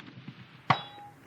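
A .308 Winchester rifle bullet strikes a steel target at the range, producing a single sharp metallic clang that rings on faintly for a moment after a quiet lead-in.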